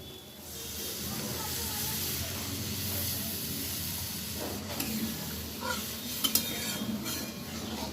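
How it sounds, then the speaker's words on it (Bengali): Water added to fried spices in a pan for a bottle gourd kofta curry, a steady moderate sizzling hiss with light stirring clinks toward the end. "মশলাটা খুব সুন্দর করে ভেজে নেওয়া হয়ে গেছে। এবার আমি জল দিয়ে দিলাম।"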